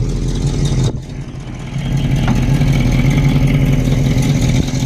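A car engine runs loud and close, dips briefly, then rises into a sustained, strained rev as the driver gives it gas, with no voices over it.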